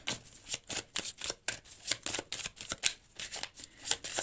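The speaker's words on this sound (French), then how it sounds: "on va aller prendre une petite carte chacun" Tarot cards being shuffled by hand in quick, continuous riffling bursts, close and moderately loud, with a steady papery flutter throughout and no voices.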